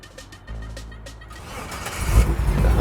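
A 1972 Chevrolet C10 truck engine cranks briefly, then catches and rumbles louder into a rough, building idle, heard close with no voices.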